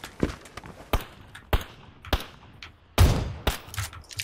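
Distant gunfire in a battle royale video game: sharp single shots spaced about half a second apart, with one louder, fuller crack near the end, over a quiet background.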